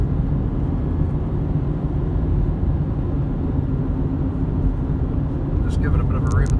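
A 2008 Suzuki Grand Vitara rolls downhill through its gears, giving a steady, close, low engine and road rumble that holds at an even loudness throughout.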